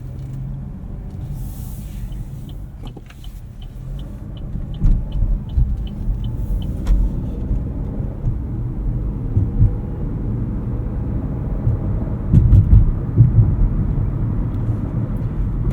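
A 2025 Chevrolet Trax 2RS drives on the road, with a steady loud low engine and road rumble heard from inside the cabin, a light tick of the indicator, and a swell as it pulls away.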